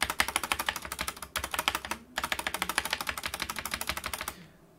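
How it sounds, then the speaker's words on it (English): Rapid typing on a cheap mechanical keyboard with rattly plate-mount stabilizers, a dense run of loud clacky keystrokes close up, pausing briefly twice before trailing off. "your plate mount stabilizers from a very cheap mechanical keyboard sound like this"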